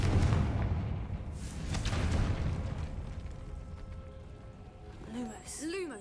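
A Confringo blasting spell explodes in a Harry Potter video game, a loud, broad rumbling blast at the start that fades over several seconds, with game chimes and bright effects near the end.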